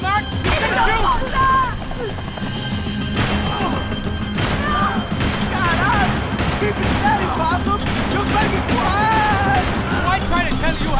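Gunfire in Max Payne 3: repeated sharp shots and crashing impacts through the whole stretch, mixed with voices talking over the action.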